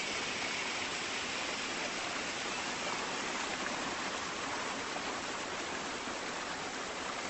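A waterfall pours steadily nearby, a loud, dense and unbroken rush of falling water that holds constant throughout, with no voices over it.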